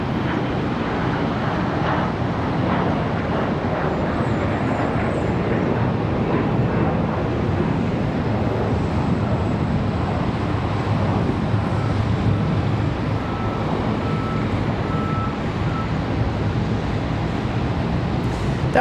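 A PSA Airlines jet takes off from Charlotte Douglas airport with a steady, loud engine roar that holds for the whole stretch, with wind noise over the microphone.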